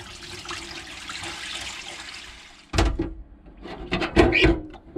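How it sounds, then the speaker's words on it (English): A cast ash pan door lowered into water: steady running-water wash, then a sudden splash and bursts of sloshing and knocking up close. "I'm going to put the Ashpan door into water"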